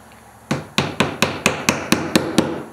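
Hammer tapping a dowel rod into a glued hole in a wooden firewood box, nine sharp evenly spaced knocks at close range with no talking.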